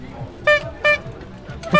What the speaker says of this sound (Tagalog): May busina.